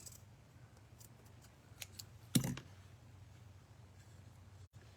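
Scissors snip through lace, one sharp close cut standing out against a quiet room, with faint scattered ticks before and after.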